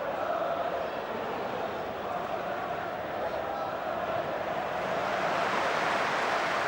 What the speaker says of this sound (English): Warm applause for that ball from Keane